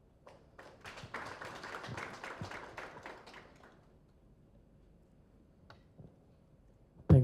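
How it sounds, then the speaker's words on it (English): People at a national stakeholders' advocacy meeting applaud after a presentation, giving a burst of clapping that builds, holds for about three seconds and then fades to a few scattered claps before a sudden loud thump at the end. "A big round of applause to Dadislas Shilimana from RBC for a great presentation."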